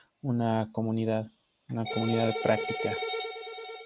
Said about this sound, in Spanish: Disculpen el teléfono.